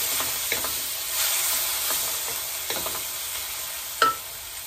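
Spice paste being stirred into egg curry masala frying in a pan, with a steady sizzle and scattered scraping strokes from a spoon, one sharper clack near the end.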